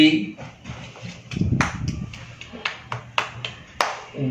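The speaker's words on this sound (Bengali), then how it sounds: "তাহলে একটা তালি" After a classroom science demonstration with water and air pressure, a group claps, giving a string of sharp, separate hand claps in an uneven rhythm that follows close talking.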